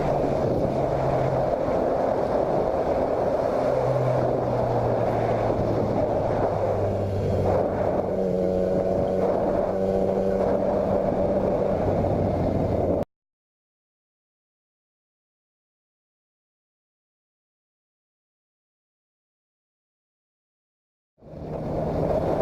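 A 2015 Yamaha MT-09 motorcycle rides along with a steady engine drone and rising and falling tones under strong wind rush, then cuts to total silence before the noise briefly resumes.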